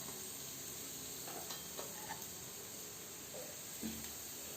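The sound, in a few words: chicken pieces added to hot pan, sizzling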